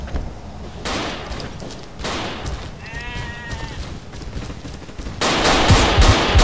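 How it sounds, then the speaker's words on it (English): Rapid machine-gun fire from the World War II dinosaur shooter game Dino D-Day, with loud repeated bursts of gunfire, a brief bleating animal cry in the middle, and a heavier sustained barrage at the end. "Maybe a dinosaur with a machine gun."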